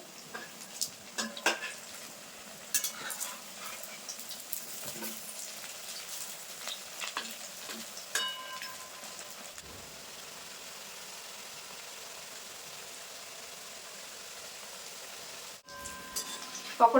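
Sabudana (sago) pakoras frying in hot oil in a pan, a soft continuous sizzle with scattered crackles and a few stirring or utensil clicks, moderately faint, with no talk.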